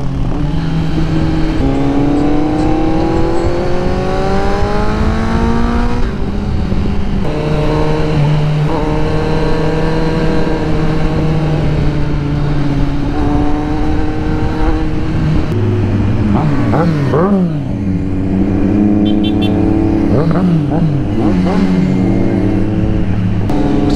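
2022 Kawasaki Z900 ridden on the Marilaque mountain highway, the engine loud and near throughout with repeated revving rises and gear shifts and the pitch climbing and falling, under steady wind rush.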